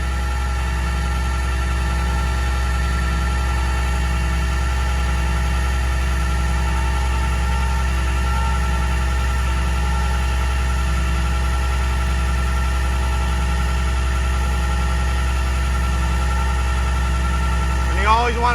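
A vehicle winch spools in its line with a steady, loud mechanical drone and hum that holds constant for the whole stretch, ending with a brief rising whir.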